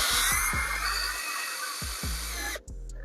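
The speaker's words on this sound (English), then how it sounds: "I'm gonna start drilling underneath, finding spots to drill using the pilot holes" A power drill bores pilot holes in the underside of a 10th-gen Honda Civic sedan to fit a side skirt extension. It whines at high pitch in bursts, and several short low rattles and thumps come between runs.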